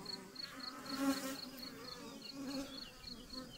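Honeybees buzz close by on a beehive frame, a wavering hum that swells and fades as individual bees move near, moderately loud with no one talking.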